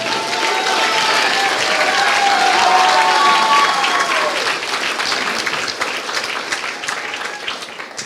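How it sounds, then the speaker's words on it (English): Audience at a high school sports, cultural and senior prizegiving claps steadily in a sustained, fairly loud burst of applause that gradually thins toward the end. "So please give a round of applause to Simon."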